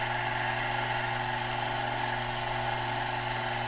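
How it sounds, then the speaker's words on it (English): Milling machine feeding its x-axis slowly with a 1/8 inch end mill on aluminum, a steady close hum with constant whirring tones and no pauses. "I'm moving the x-axis."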